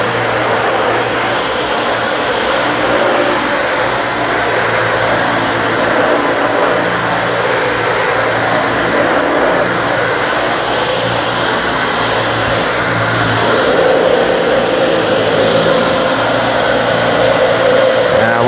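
A Dyson Slim Ball upright vacuum cleaner runs on a dirty carpet, sending out a loud, continuous whining roar up close, with a faint crackle of debris being sucked up beneath it.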